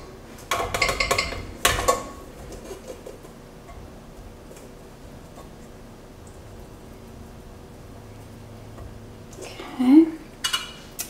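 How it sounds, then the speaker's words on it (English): Liquid from apples is strained through a strainer into a small saucepan, with clinks of metal utensils and cookware near the start and end and a quieter stretch between, while a voice speaks. "In a small saucepan, we're just going to strain the liquid from those apples right in that pot."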